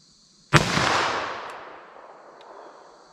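A single sharp, loud shot from a 10mm revolver firing Hornady Handgun Hunter 135 grain ammunition outdoors, followed by a long rolling echo that fades over a few seconds.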